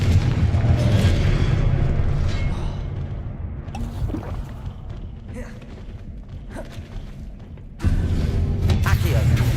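Spells cast in the Hogwarts Legacy video game, including Confringo and Incendio, set off deep booming explosions and rumbling blasts, with a loud burst near the end and voices over the noise.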